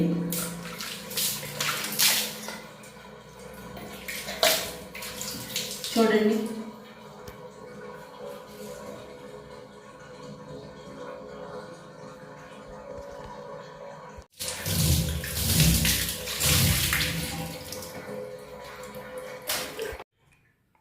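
Water is poured and splashed over a bathtub during bathroom cleaning, in two loud bursts of gushing and slapping at the start and near the end, with someone talking in between.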